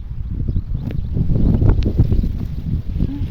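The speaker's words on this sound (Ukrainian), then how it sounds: "вітер" Steady wind buffets and rumbles against the microphone, a low, gusty roar that swells slightly in the middle and never lets up.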